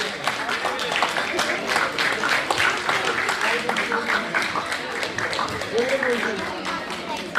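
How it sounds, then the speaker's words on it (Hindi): An audience claps for a doctor in sustained, dense applause, with voices speaking over and under the clapping the whole way through. "बहुत सारी तालियां"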